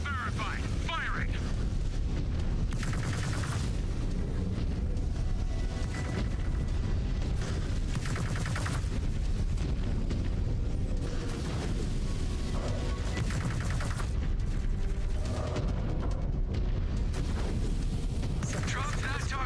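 Mech weapons fire continuously in MechWarrior 5, heavy booms and gunfire bursts rolling one after another at full loudness for the whole stretch, with voices talking intermittently beneath the barrage.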